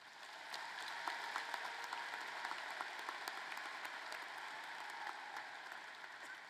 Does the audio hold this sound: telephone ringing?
no